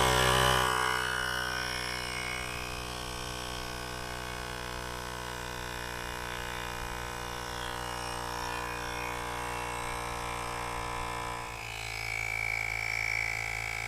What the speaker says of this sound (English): So this is a really nice little air compressor